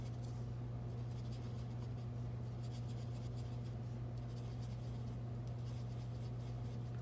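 A pen or pencil scratches across paper while drawing snowflake designs, a continuous soft scribbling that runs alone over a steady low hum.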